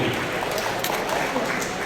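A crowd applauding at a public inauguration ceremony in Bhavnagar, with dense, continuous clapping throughout that stays loud and steady.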